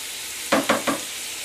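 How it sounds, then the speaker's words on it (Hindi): Chicken pieces fry in a hot pan, a soft steady sizzle broken by three quick scraping stirs in close succession. "इस तरह से हमने इसे चिकन को 2 से 3 मिनट के लिए फ्राई किया है"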